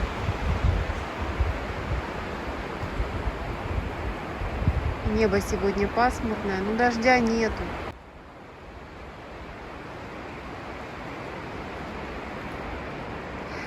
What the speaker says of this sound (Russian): Смотрите, как они красиво качаются от ветра.